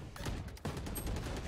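Vandal rifle shots ring out in Valorant as a short burst of close gunfire. Several quick cracks land in a tight cluster over about a second and a half.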